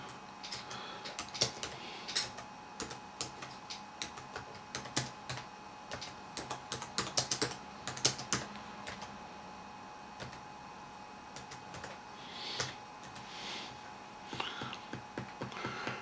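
A computer keyboard typing out a title, with quiet, irregular clusters of key clicks and short pauses between words, over a faint steady hum.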